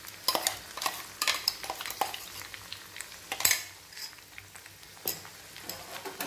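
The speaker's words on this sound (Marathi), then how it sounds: "आता हे सर्व व्यवस्थित हलवून घ्यायचं आहे हळूच" A spoon stirs paneer curry with tomatoes in hot oil, giving quiet scraping and clinking strokes against the pan in an irregular rhythm over a faint sizzle.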